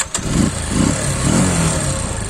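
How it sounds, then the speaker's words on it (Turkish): A 50cc Kuba TK-03 motorcycle engine cranks and catches on the first start after a sharp click, then settles into a loud, steady idle close by. "motorumuzda tek marşta alabiliyor. Hemen size bir göstereyim."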